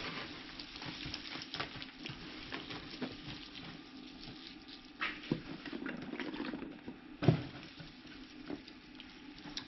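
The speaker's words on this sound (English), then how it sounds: "I think I'm going to add some more water to the lower layers." Water is poured into the lower layers of a worm bin housing African night crawlers: a steady, close trickling and splashing with a few sharper splashes, and no voices.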